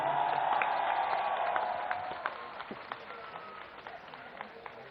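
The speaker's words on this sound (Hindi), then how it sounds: "अपने लिए जोरदार तालियां बजा दो।" A protest crowd in Delhi applauds, a noisy burst of clapping and crowd noise heard through a thin, band-limited recording that fades to scattered claps after a few seconds.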